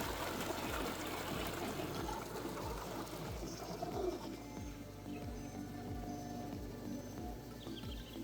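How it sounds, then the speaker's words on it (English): Water flowing from a Polaris Freedom cordless robotic pool cleaner working in a pool: a soft, steady trickle running under a regular low ticking pulse from the machine, fairly faint and close. "Lots of water flowing, which is good."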